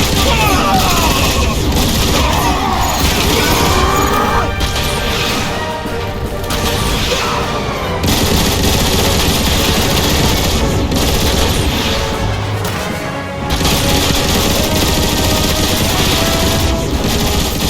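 Heavy, sustained gunfire and blasts in Transformers: War for Cybertron during a battle as Iacon is destroyed, dense continuous shooting with crashes and booms and only brief lulls, loud throughout.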